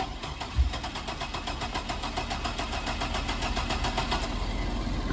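A Bullnose Ford Bronco truck engine cranks and catches with a brief thump, then settles into a rough, steady running idle with rhythmic pulsing, close by and without talk.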